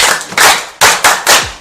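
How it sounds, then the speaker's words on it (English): Scattered hand claps from a small studio audience on a live TV quiz show, a few sharp, close smacks arriving in uneven bursts that each fade quickly. "Clap for her."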